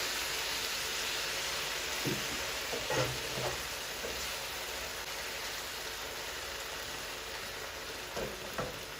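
Tomato puree stirred into quesadilla filling in a hot pan, giving a steady sizzle with a few soft scraping stirs of the utensil, close and continuous.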